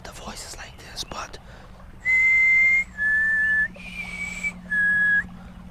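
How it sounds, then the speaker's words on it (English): Someone whistles by a small roadside brook while fishing, giving four clear sustained notes in steady succession after a brief stretch of soft voice and handling noise. "you can whistle. No problem at all."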